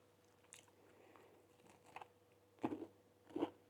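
Someone bites into a crunchy wood-fired banana date loaf: a few faint, close crunches, then two louder crisp crunching bites near the end, over quiet background.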